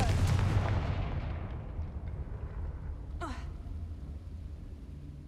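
A Confringo fire spell blast in Hogwarts Legacy opens with a loud booming burst that rolls off into a fading rumble, followed by a short whooshing sweep a few seconds later.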